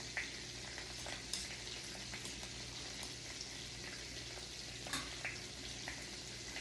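Garlic and anchovies frying in a pan, a soft, steady sizzle with faint scattered pops and light stirring clicks, quiet and without talk.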